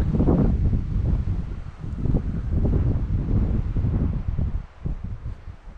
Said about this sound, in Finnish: Tuuli on kyllä kovaa tosiaan.